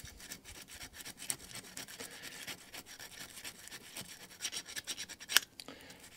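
An emery board files the ignition points of a Honda HR21 lawn mower with a faint, close, dry scraping that rasps back and forth in short strokes, with one sharper scrape near the end.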